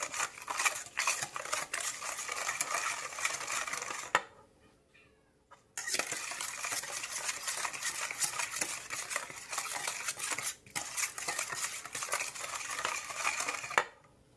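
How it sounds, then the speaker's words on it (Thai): A spoon stirs Thai spicy salad (yam) dressing of lime juice and seasonings, scraping and clinking steadily against the bowl for several seconds, pausing briefly, then resuming its continuous close scraping. "คนน้ำยำให้เข้ากันครับ"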